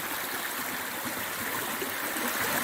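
Water flows steadily in a stream below Darwin Falls in Death Valley, a desert waterfall; a continuous close rushing and babbling with no pauses or voices.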